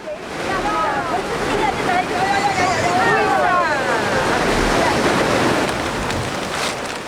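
Rough surf churning off a Korean island with a constant roar of wind buffeting the microphone, while voices talk loudly over the noise.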